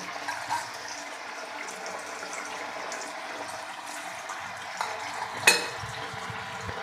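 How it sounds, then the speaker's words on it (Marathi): Rice-flour chakli made from ration rice is eased into hot oil on a low flame, giving a faint, steady sizzling hiss with a single brief clatter near the end and no talking. "तर बघा अलगद अशी आपल्याला तेलामध्ये चकली सोडून घ्यायची आहे"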